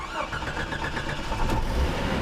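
A 1989 Jeep Cherokee with an automatic transmission cranks and starts, then settles into a rough, steady idle with a slight rev, heard close up and without speech.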